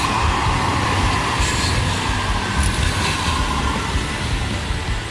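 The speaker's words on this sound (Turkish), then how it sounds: "bazen de tramvayla yarış yapıyorum. Tramvay beni geçiyor." A tram rumbles steadily past at close range in Istanbul's Fatih district, a continuous loud roar of wheels and motor with no pauses.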